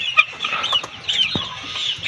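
Two-month-old chicks with colds clucking and peeping softly, with a few short higher chirps over a low background murmur, close by and continuous.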